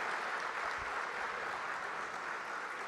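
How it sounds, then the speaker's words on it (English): Applause for a conference panel at a session's close: a faint, even wash of crowd clapping from a distance, holding steady throughout without any voices on top. "Ladies and gentlemen, can we have a huge round of applause one more time?"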